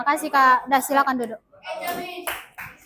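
Students in a classroom clap their hands in a short burst of scattered applause after a teacher speaks, the clapping close and brisk.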